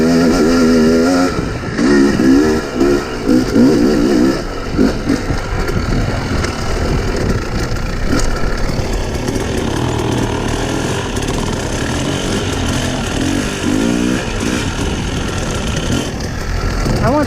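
An off-road dirt bike at an off-road vehicle park runs loud and close, revving hard early on and then settling into a rough, steady idle and throttle blips for a long stretch.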